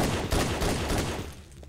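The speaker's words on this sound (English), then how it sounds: "that's an accurate representation of the Halo 1 pistol" Rapid gunfire from the Halo 1 pistol in Garry's Mod, a dense run of loud, close shots that thins out toward the end.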